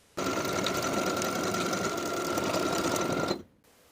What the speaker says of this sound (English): Sew your buttonhole into the left front waistband along the line indicated on the pattern piece.